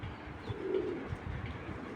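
A large Belgian male racing pigeon with a pedigree and three races behind it gives a soft, brief coo close by, faint over a low background rumble.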